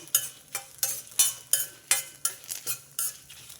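Dried red chillies fried in a pan for gonguura chutney while a spoon stirs them, with steady scraping strokes against the pan in a regular rhythm over a soft sizzle. The sound is close and there is no talk.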